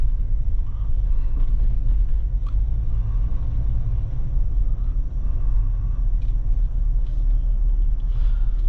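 A 2020 Jeep Wrangler Unlimited Sahara driving, heard from inside the cabin as a steady, loud low rumble of engine and road noise that holds evenly with no talking.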